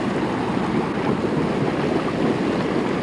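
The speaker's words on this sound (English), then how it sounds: "A cluster of boiling hot springs" A cluster of boiling hot springs at the Waimangu geysers produces a dense, steady bubbling roar with wind-like rushing noise, loud and continuous, with no voices heard.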